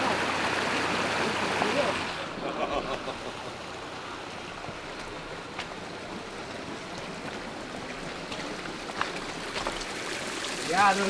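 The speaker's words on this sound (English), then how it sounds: "Water going into nowhere." Water rushes steadily in a stream, a broad, continuous wash that is louder at first and then settles into a softer, even flow, with a few faint knocks and a brief rise near the end.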